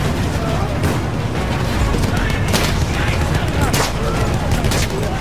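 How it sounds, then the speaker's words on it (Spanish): Machine gun fire in Battlefield 1 on PS4, a dense continuous rattle of rapid shots mixed with booms and battle noise, loud throughout, with someone shouting excitedly over it. "¡Ay, son la ametralladora!"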